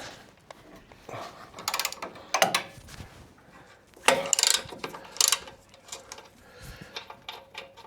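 A hand ratchet undoing shock absorber and sway bar bolts on a Toyota Land Cruiser 250 Prado clicks in several bursts of quick ratcheting, pausing between turns, close and clear with light metallic clatter.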